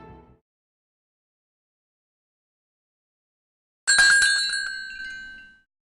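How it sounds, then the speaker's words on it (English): A shop door bell chimes in the video game Fatal Twelve, a single bright ringing strike that rings out and fades over about two seconds after a long silence. "the bell on the door chimes"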